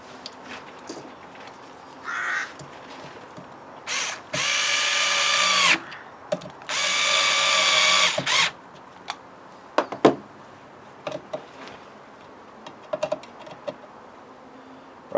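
An electric screwdriver drives two screws to fix the brush cover on an old oscillating sander, two loud whirring bursts of a few seconds each, with scattered clicks and handling knocks around them.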